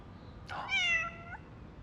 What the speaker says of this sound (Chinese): 居然会养一只这么可爱的